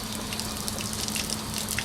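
A tap runs inside an RV, giving a steady close hiss of flowing water with faint splashing, continuous and unaccompanied by voices.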